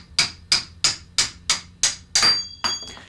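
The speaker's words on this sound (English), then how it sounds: "take a hammer and a screwdriver and tap the flat end of the blade to" Sharp metallic hammer taps on a screwdriver driving a rasp blade out of its handle strike in a steady rhythm, about nine blows, each ringing briefly before the next.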